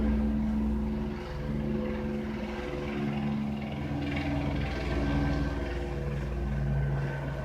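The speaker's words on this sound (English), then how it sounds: "Oh, there's a helicopter up there somewhere." A steady low engine drone hangs overhead, like a distant helicopter, holding fairly even and faint throughout.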